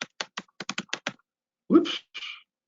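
Quick keystrokes on a computer keyboard, about eight crisp taps in a rapid rhythm, followed by a pause and two longer, softer rustling clicks, close and alone.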